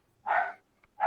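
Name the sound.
dog barking in the background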